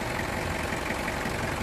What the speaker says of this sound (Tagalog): Start ko na itong makina